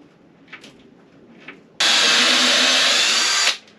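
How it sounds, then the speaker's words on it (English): A power drill drives a stainless steel screw into one-inch-thick fiberglass layup with screw lube, whirring loud and steady for nearly two seconds after a quiet lead-in with faint clicks. "We're screwing into 1-inch thick fiberglass layup, which is brutal even on stainless steel screws."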